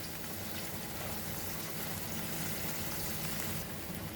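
A pot of moong dal khichdi with tomatoes cooking over heat, bubbling and sizzling in a dense, steady, close wash of sound with no talk.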